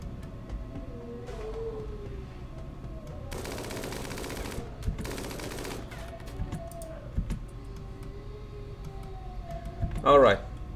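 Rapid minigun gunfire in the video game RimWorld, two dense sustained bursts in the middle, with game sounds and talk running through the rest.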